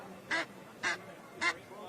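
Three short, nasal quacks blown on a Wheat's game call imitate a gray duck, spaced about half a second apart, close and distinct over a quiet background.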